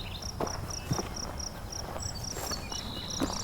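Crickets chirp in a steady, high repeating pulse across a quiet meadow at the edge of Beverly Swamp, with faint rustling and soft thuds nearby.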